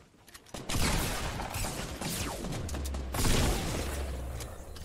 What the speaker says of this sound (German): Ja, also noch Schüsse hinter uns.